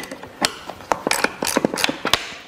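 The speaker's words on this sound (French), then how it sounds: "on va venir serrer avec la clé" Steering bolts on a Vélobecane electric bike tightened with a wrench, a series of sharp close ratcheting clicks and metallic ticks in an uneven rhythm.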